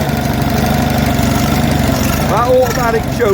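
An Onan US military generator engine running: a loud, steady, rhythmic idling chug with a close mechanical knock, while someone talks over it near the end.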